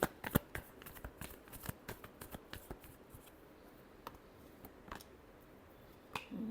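Tarot cards are shuffled and riffled in quick, soft crisp clicks and flutters, close and quiet, in irregular bursts with pauses.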